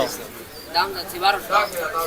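Pigeons coo softly among the birds for sale at a weekly pigeon market in Manikganj, several low throaty calls rising and falling beneath nearby conversation.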